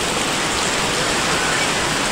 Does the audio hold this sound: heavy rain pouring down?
yes